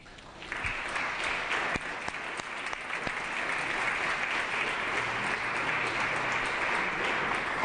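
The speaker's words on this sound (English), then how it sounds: "Let's give them one more round of applause." Applause for honorees in a legislative assembly chamber during a floor session, beginning after a brief pause and swelling into sustained, even clapping from many members for several seconds.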